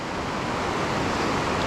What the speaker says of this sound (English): Yougiogheny River, railroad rapids